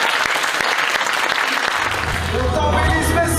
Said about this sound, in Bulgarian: Аплодисменти за Меги Димчева, дами и господа.